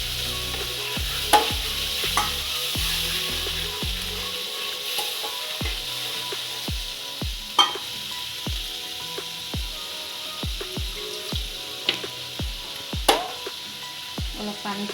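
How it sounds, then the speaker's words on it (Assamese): Gravy for shahi paneer sizzles in a pan while a spoon stirs and scrapes it, giving repeated sharp clacks against the pan over a continuous fry hiss, without any talking. "এতিয়া মই গ্ৰেভিখিনি ঢালি দিম।"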